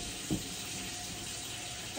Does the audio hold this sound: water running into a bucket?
yes